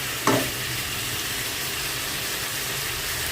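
Bottle gourd sautéing in a hot pan, a steady sizzling hiss that runs throughout after a brief clatter near the start, with no talking.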